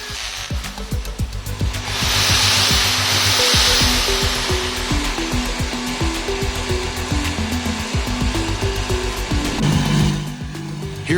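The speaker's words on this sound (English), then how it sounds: "We're going to connect this drill." A power drill runs steadily with a loud, sustained whine, its pitch shifting slightly as the motor spins up and settles.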